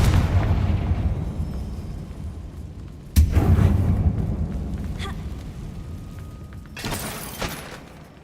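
Bombarda blasting spell from the Hogwarts Legacy video game: a sharp booming explosion bursts out around three seconds in, followed by another blast near seven seconds, over a continuous low game rumble.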